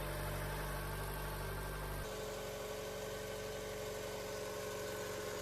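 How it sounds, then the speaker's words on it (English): A Mazda engine idles steadily after a radiator replacement, a constant low mechanical drone with a slight shift in tone partway through and no talking. "With the engine running we can check for leaks"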